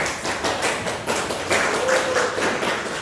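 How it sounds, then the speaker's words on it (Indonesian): A classroom audience claps for a group that has just presented its work. The applause is scattered and irregular, with overlapping taps that carry on for about three seconds. "Tepuk tangan dulu untuk mereka."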